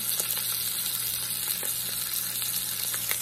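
Rump roast searing on high heat, a soft steady sizzle and crackle of fat with scattered pops, close and fairly quiet, with no voices.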